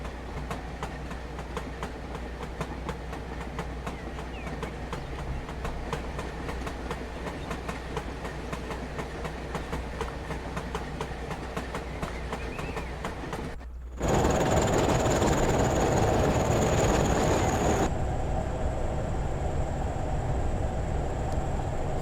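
Class 20 diesel locomotive hauling about 35 loaded HAA coal hoppers in Train Sim 2021, a steady rumbling roll with rhythmic wheel clicks that shifts abruptly to a louder, brighter rushing noise partway through.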